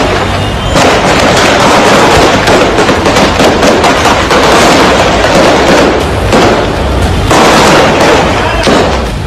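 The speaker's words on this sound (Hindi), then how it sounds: "तालिबानी आतंकियों ने आंख मूंद कर फायरिंग की।" Taliban fighters firing weapons in Jalalabad, Afghanistan: loud, dense, rapid cracks and bursts that run continuously and overlap, with no pauses and no voices.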